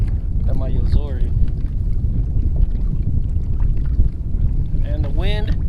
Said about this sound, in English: And the wind is picking up though.